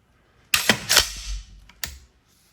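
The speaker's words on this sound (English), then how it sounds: "I'm going to take the mag out just because it'll be easier to recycle, to cycle the bolt." Bolt of an FN SCAR 17S rifle being cycled with the magazine removed: a sharp metallic clack and slide, a second heavy clack, then a short pause and a final snap, close and dry.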